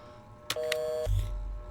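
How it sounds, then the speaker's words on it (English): An answering machine in an autopsy-simulator horror video game gives one steady electronic beep of about half a second after a click, followed by a low rumble. "So I'd better check the answering machine."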